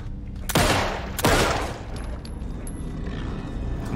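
Two loud, sharp gunshots ring out close together in Alan Wake 2, each leaving a long reverberant tail. A steady low ambient rumble runs underneath and carries on after them.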